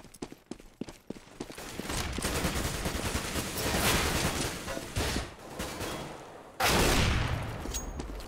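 Gunfire in Counter-Strike: Global Offensive on the de_nuke map during a competitive match, a few single shots followed by dense sustained rapid fire and a loud burst near the end, no voices.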